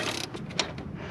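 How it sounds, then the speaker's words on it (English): Sharp metallic ratcheting clicks come from wrenches twisting nuts off the steering box bolts of a 1979–85 Mazda RX7: several quick bursts over a steady low hum, close up, with no talking. "You gotta put wrenches on this and hold it there so that you could twist the nut off the other side."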